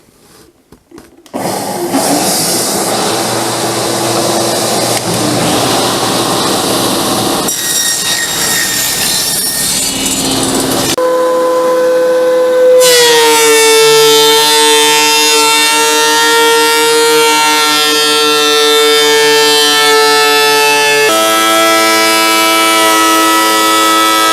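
A loud power tool trims oak boards salvaged from an old TV stand, a continuous high whine running through the whole stretch with shifts in pitch as it cuts, no talking.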